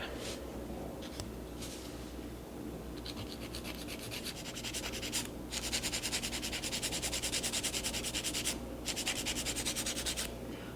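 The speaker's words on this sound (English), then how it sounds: "When I'm filing it, I'm just applying more pressure to the end of the tip than the side" A nail file rasps back and forth against a fake plastic nail tip, close and continuous, the strokes growing denser and more pronounced midway through, with no voices.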